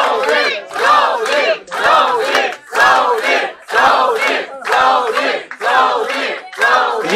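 A wrestling crowd chants in unison at a match, rhythmic rising-and-falling bursts of massed voices repeating roughly every second, loud and close with no separate talk.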